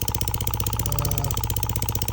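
A small Little Machine Shop 2243 oscillating engine, modified to use substitute materials, runs on its first start with a fast, even train of sharp mechanical chuffs and knocks, close and loud.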